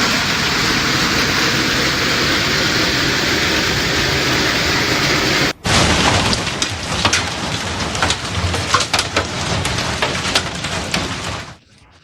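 A heavy hailstorm in Zhejiang, China, roars as a dense, loud, steady wash of pounding for several seconds, then continues after a sudden cut as a rougher clatter of many hard impacts that stops abruptly near the end.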